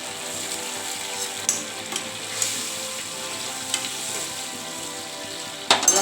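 Vegetable Manchurian sauce with water sizzling and bubbling steadily on a high flame, with occasional clinks of a spoon against the pan and a louder scrape near the end.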